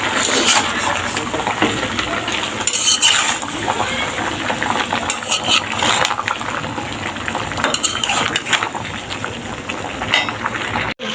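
Curry cooks in a pan while being stirred, giving a loud, steady sizzling hiss with occasional brighter bursts of bubbling and scraping throughout, close up and with no speech.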